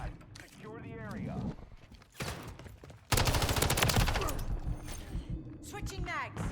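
Gunfire in the video game Call of Duty MW3, with an MTZ 556 rifle build: sporadic shots and mechanical clatter give way to a loud, dense burst of rapid fire, while a voice talks in the background.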